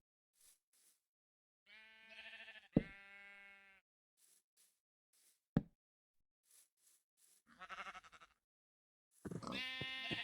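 Several short, nasal sheep bleats in bursts with silent gaps between, a couple of sharp clicks, clean and close like game sound effects.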